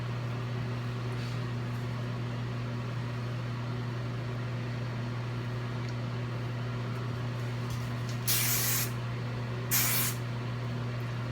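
Hairspray is sprayed onto a high curly updo in two short hissing bursts about a second apart near the end, close and clear over a steady low electrical hum.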